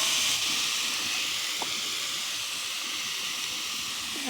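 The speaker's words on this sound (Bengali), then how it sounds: "আলুটা ঢেলে দিলাম," Potatoes tipped into a hot pan, a steady broad hissing sizzle that holds evenly throughout, with a faint squeak or two in the background.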